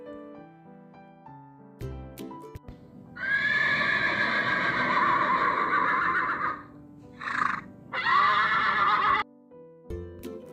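A horse whinnies in a long, loud, wavering neigh, then gives two shorter bursts, with soft tonal sounds before and after and no talking.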